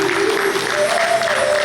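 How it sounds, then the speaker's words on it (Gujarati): An audience at a religious gathering breaks into applause, a dense, steady wash of clapping lasting under two seconds, with a faint sustained tone running beneath it. "એકવાર તાળીઓના તાલ સાથે વધાવો જોઈએ."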